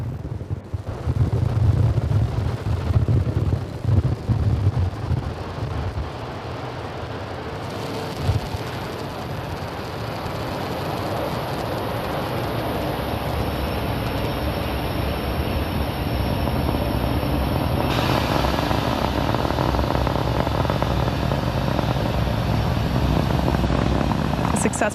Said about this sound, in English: Successful liftoff for Falcon 9